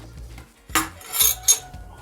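Fork clinking against a bowl while two homemade eggs are beaten, a few quick scraping taps over a low background hum.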